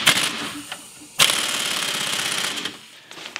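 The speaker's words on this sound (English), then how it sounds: "grab an 18mm socket, put it on either an impact gun or a wrench, and tighten up the back nut over here" An impact gun with an 18mm socket tightening the back nut of a press-in wheel bearing, sounding as a loud, close, rapid rattling hammer in two bursts with a short pause between them.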